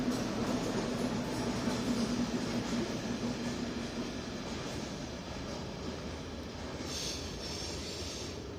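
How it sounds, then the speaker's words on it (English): Train on the nuclear line at Millwood, Barrow-in-Furness, rolling past at a steady distance, a continuous rumble with faint wheel noise and a slight screech that holds for several seconds, with no talking. "That's the first train I think I've ever seen going on that line"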